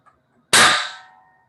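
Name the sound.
hydrogen-oxygen mixture explosion bang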